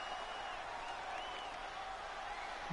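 Crowd noise from a WWE 2K22 arena during a Wrestlemania Backlash show, a steady broad roar with faint whistling and booing tones running continuously at moderate distance.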